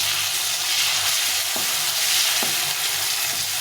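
Long-cut tomato sizzles steadily in hot oil in a pan for a pabda fish curry, a dense close frying hiss with a few soft stirring clicks and no talking.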